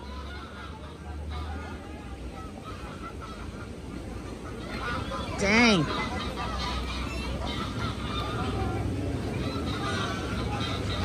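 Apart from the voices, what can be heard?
ducks fighting and honking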